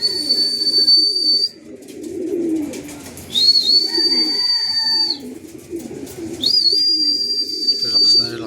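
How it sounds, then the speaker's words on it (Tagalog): Racing pigeons land at the loft after a derby race in Gumaca, Quezon. Close, repeated cooing mixes with bird whistles in several bursts, while someone talks nearby. "Ayan ang mga kalapatids, sumaba na."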